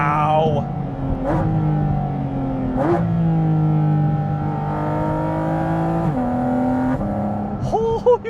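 A Porsche GT4 RS with a naturally aspirated engine revving, rising and falling in repeated pulls with a strong, steady tone, fairly close, with someone talking over it.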